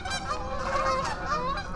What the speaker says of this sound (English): Oh, there's some ducks, right?